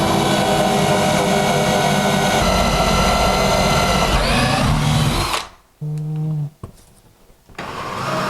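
A power drill whines loudly and steadily while boring holes for a kitchen sink installation, then cuts out, followed by brief bursts of drilling and a hum resuming.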